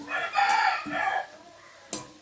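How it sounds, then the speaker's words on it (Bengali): A rooster crows nearby in one long, wavering call, followed by a short sharp knock in an otherwise quiet setting. "আমাদের মোরগটা দেখতে পাচ্ছ তো, সব সময় ডাকতেই আছে।"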